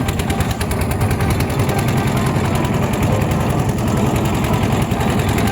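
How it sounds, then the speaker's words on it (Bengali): A motorboat engine drones steadily and loudly at speed, crossing the Brahmaputra river at about eighty kilometres per hour, a dense, unbroken rattling hum with no voices. "আমাদের নৌকা চলছে আশি কিলোমিটার বেগে আমরা ব্রহ্মপুত্রের ওই পারে যাচ্ছি"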